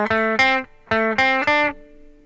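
Clean guitar picks out measures 7 and 8 of the Super Mario Bros. theme: a few short, bright plucked notes in clusters with brief gaps. The final note rings out and fades. Nobody speaks.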